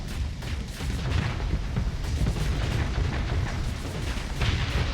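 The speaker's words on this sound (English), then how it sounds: "Shove that plasma cannon right up in his bum" Plasma cannon fire in the space combat game Starsector, a dense, continuous barrage of booming blasts and rumbling impacts, loud and close with no talk.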